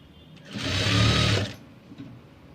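A sewing machine stitches the lining of a princess-cut blouse in one short, close burst of steady whirring that lasts about a second, then stops.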